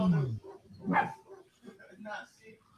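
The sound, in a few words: dog barking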